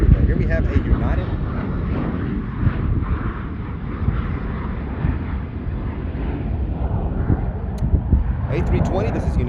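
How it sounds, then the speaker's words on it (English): United Airlines Airbus A320 jet at Charlotte Douglas airport, a steady, broad engine roar held at even loudness throughout, with a voice talking over it. "This is United Airlines Flight 371 out of Denver, Colorado."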